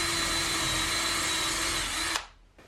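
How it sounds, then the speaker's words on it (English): A power drill bores a hole in wood for a bunk bed barrel nut, a steady high whine held for about two seconds that cuts off abruptly and winds down. "I need to drill a hole from the back side to line up here"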